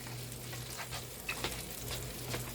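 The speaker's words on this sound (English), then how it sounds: "so I'm gonna let these fry" Appetizers frying in hot oil make a quiet, steady bubbling sizzle with faint crackles and a low hum underneath.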